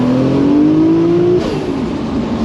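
A Toyota AE86 engine revs up with a steadily rising pitch, then drops off as the throttle is released. The sound is loud and close, with no talking.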